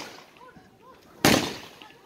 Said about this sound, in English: Oh, there's another firework.